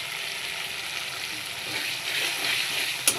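Red chili sauce and other sauces for chili chicken sizzle and bubble in a hot pan as they are stirred, a steady close-up hiss ending in a brief clink.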